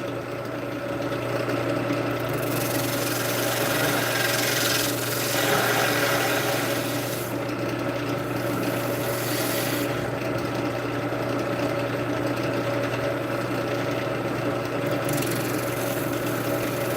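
Spindle gouge cutting a wooden piece turning on a lathe, a steady rasping scrape over a continuous motor hum, with the cutting noise swelling and easing in passes.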